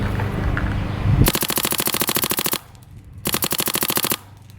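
A Geo 4 paintball gun fed by a Dye Rotor LTR hopper fires two rapid full-auto bursts, loud and close, each a dense string of sharp pops with a short pause between.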